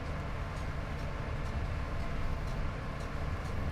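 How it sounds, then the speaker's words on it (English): An Intercity 87 train in a railway simulator, a steady, close rumble of wheels and rail noise with faint rhythmic clicks over the track and no voices. "There's another Intercity 87 there."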